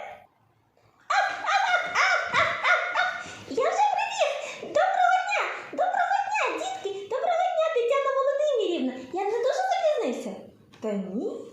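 A dog vocalises in a long, uneven string of yips, whines and bark-like cries, close and fairly loud, with short pauses between bursts.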